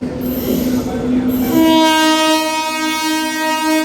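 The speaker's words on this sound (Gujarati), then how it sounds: "ટ્રેન આવી ગઈ છે" A passenger train pulling into a station sounds a loud, sustained horn blast close by, over a rumbling background of rail and station noise.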